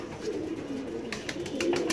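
Pigeons in a rooftop loft coo softly and repeatedly, a low rolling call close by, with light background noise and a few faint higher chirps.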